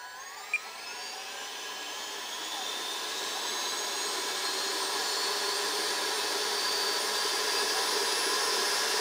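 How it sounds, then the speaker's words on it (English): Arrows RC BAe Hawk 50mm electric ducted fan jet run up on the throttle indoors, a loud steady high-pitched whine that climbs slightly and holds, with a faint click near the start. "We are gonna give this jet some throttle"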